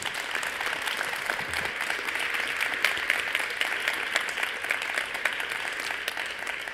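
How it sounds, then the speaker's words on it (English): An audience applauding after a talk, a steady, sustained round of many hands clapping, moderately distant and even throughout. "especially a big round of applause"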